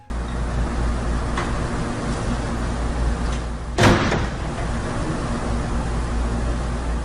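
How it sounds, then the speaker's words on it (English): A door in a storage room slams shut with a single sharp, fairly close bang over a steady hiss of background noise, and the room stays quiet before and after. "a moment later, the door next to it slams closed"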